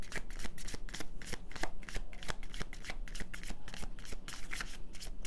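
Tarot cards shuffled and drawn by hand: a fast, steady stream of crisp riffling flicks and papery slaps, close and continuous throughout.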